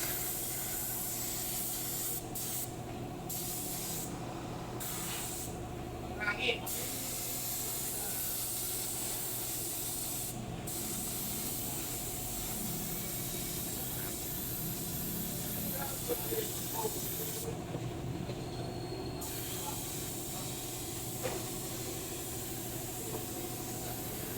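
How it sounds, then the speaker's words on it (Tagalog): Gear oil sprayed under pressure onto a van chassis during an underwash, a steady loud hiss that drops out briefly several times, with faint workshop noise and occasional voices. "Ganyan po ang sistema ng papabuga na gear oil."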